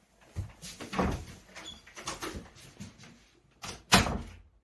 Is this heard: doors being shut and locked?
yes